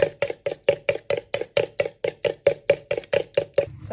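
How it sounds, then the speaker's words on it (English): Two eggs beaten in a bowl, a steady run of brisk, evenly spaced clicks and taps, about four per second, close and clear with no talking. "I've got 2 eggs that I'm going to beat until they're nicely combined."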